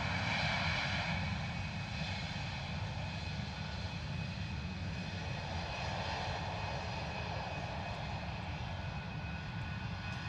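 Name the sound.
EasyJet Airbus A320 arriving at Luton Airport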